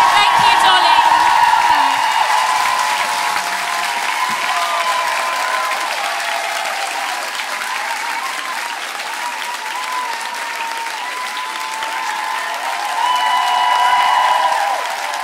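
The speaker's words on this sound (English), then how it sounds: "One more round of applause." An audience at the Wilderness festival applauds and cheers after an onstage interview, with long continuous clapping, scattered whoops and a voice over the crowd, easing in the middle and swelling again near the end.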